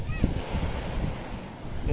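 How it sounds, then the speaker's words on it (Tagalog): Surf washing in with a steady broadband rush, wind buffeting the microphone, and a stronger wave surge near the start and end. "ayaw naman lumiit ng alon."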